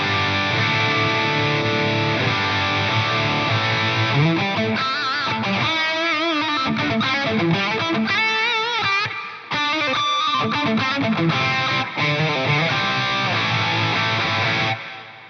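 A distorted electric guitar plays chords and bending lead lines with a wide, spacious effect, loud and continuous throughout.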